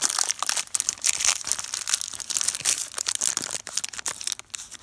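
Crinkly packaging being torn open around a delivery of SKF bearings, a close, busy run of crumpling and tearing bursts with no voices.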